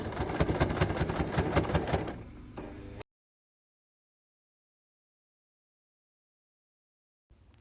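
A sewing machine runs steadily for about three seconds, top stitching a large fabric tote bag, then stops, leaving near silence afterward.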